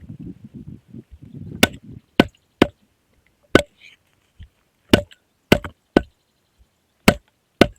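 A knife chops country chicken into pieces outdoors by a hill stream. About ten sharp, loud whacks land at irregular intervals, each short and separate with quiet between, after brief low talk at the start.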